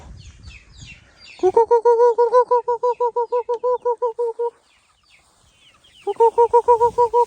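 Chickens kept at a small Thai farm with a fish pond cluck in a rapid, evenly spaced run of loud calls, fall quiet for over a second, then start another burst, with faint background noise between.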